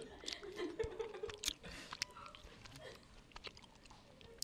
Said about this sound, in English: I'm one of those people who hates the sound of chewing.